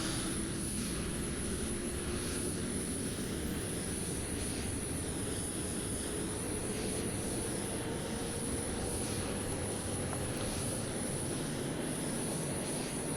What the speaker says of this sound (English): Let that engine spool up.